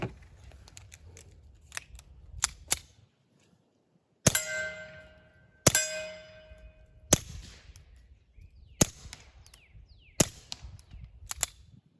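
A suppressed Beretta 71 pistol with a Rugged Mustang suppressor firing CCI subsonic .22 LR hollow point rounds: about eight sharp, quiet cracks with metallic action clatter, irregularly spaced, close by, plus faint handling clicks between.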